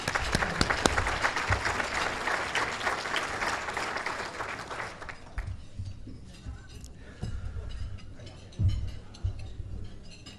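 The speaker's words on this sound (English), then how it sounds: "One round of applause would be terrific" Audience applause at a children's charity fundraising gala, thanking sponsors: dense clapping for about five seconds, then thinning to scattered individual claps and a few late bursts.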